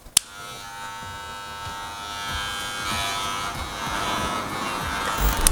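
A Wahl Legend cordless hair clipper hums steadily with a buzzing motor tone, close up, starting with a click and running continuously with slight variation.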